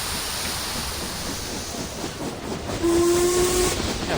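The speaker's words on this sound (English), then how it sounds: "Sharp whistle, the train surges forward" Train steam whistle and departure in the video game Reverse 1999: steady hissing steam and rumble build, then a sharp sustained whistle tone cuts in near the end, loud and close.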